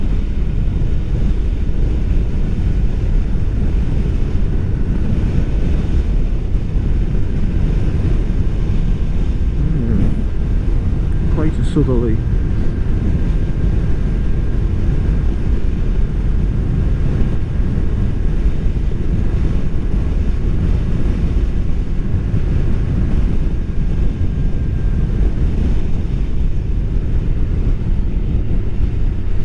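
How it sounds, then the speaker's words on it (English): Strong wind buffets the microphone throughout on a fortified farm beside a marsh, a loud, steady low roar that masks most other sound, with someone speaking briefly under it. "getting that windy today"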